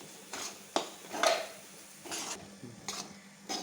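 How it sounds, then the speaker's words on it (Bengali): A spoon scrapes and stirs dhoka lentil cake mixture in a pan in several soft, irregular strokes, each a short rasping swish with a faint clink of metal, over a quiet sizzle. "এবার আস্তে আস্তে এইভাবে নাড়াচাড়া করে নিতে হবে।"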